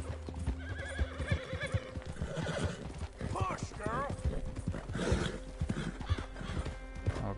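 Horse hooves clip-clop rhythmically alongside repeated neighing and whinnying in the video game Red Dead Redemption 2, with someone talking over the sounds.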